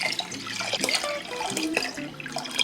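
Water pours and splashes into a pot in a home kitchen, a continuous close, bright gurgling stream with no voices.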